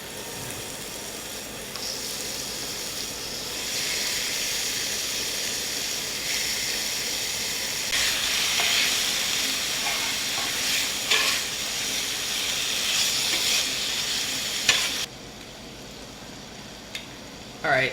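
Marinated beef sizzles and fries in a hot skillet for a crunch wrap filling, a steady close-up hiss with occasional stirring scrapes and pops, then dropping quieter near the end.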